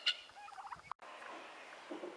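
A turkey on a small farm with chickens and guinea fowl lets out a brief, faint, warbling gobble at a distance. It stands out against quiet farmyard background noise, with no voices.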